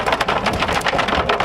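Hail pounds down hard during a severe nighttime storm in northern Oklahoma, a loud, dense clatter of stones striking surfaces in rapid, uneven bursts, close and without pause.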